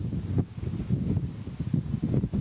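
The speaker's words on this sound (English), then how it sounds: "It just stings every time when these gusts come through. It's picking up." Strong gusts of bushfire weather buffet an outdoor microphone, a continuous loud low roar with rough surging swells and no talking.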